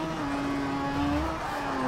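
A Mazda RX3 engine drones steadily with faint tire noise as it jump drifts in Forza Motorsport 7, a sustained close engine tone without speech.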